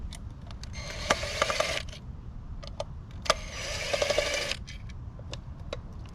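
A screwdriver or drill works Phillips bolts out of a light bar control module on a 2023–2024 GMC Canyon, in two bursts of close whirring separated by small metallic clicks and taps.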